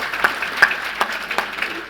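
Scattered hand clapping from an audience at a Labour leadership hustings in Stevenage, a brief, sparse round of applause with individual claps audible rather than a full ovation.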